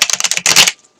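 Tarot cards being shuffled, a fast burst of crisp riffling flicks followed by a brief swoosh, close and loud, lasting about a second.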